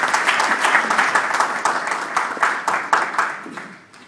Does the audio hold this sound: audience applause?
yes